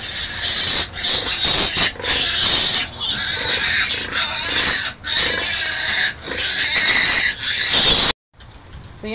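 Pigs in a farrowing pen where a sow has just given birth, with loud, close, high-pitched squealing and grunting in repeated bursts that run almost continuously, then cut off sharply near the end, leaving quieter background noise.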